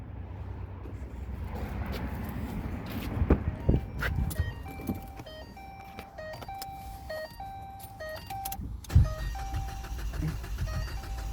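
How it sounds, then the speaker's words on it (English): A 2011 Ford Fiesta engine cranks without starting, giving short irregular cranking bursts mixed with electronic chimes and beeps from the car, fairly faint, with brief talk nearby. "Just sits there and wants the cranks"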